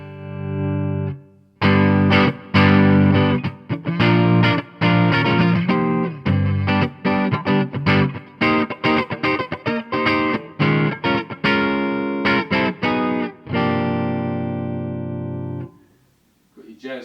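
Edwards E-LP-92SD Les Paul Goldtop copy with Seymour Duncan P90 pickups on a clean amp channel, strummed chords and short picked phrases ringing loud and close, then fading out at the end.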